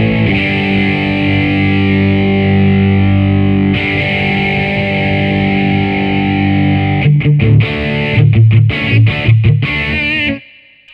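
An electric guitar runs through a Boss JHS Angry Driver overdrive pedal with plenty of gain, starting with thick sustained distorted chords and ending in choppy staccato stabs before cutting off.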